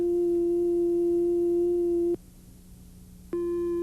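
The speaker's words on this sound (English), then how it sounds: "This is a sine wave." A steady pure electronic sine tone from an oscillator holds for about two seconds, stops for a brief gap, then resumes, clean and even with no voices.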